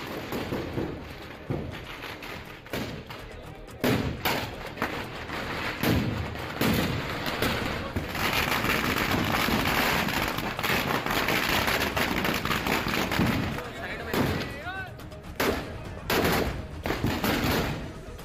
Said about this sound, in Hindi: अब देखिए बारूदी होली, जहां गोलियां चली, तोपे दागे गए